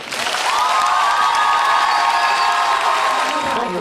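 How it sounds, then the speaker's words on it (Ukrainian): Loud, sustained audience applause with cheering and whoops fills a student performance event at a university, a dense steady crowd roar throughout, with a shouted voice rising over it. "Якщо сподобався я вам, прошу аплодувати."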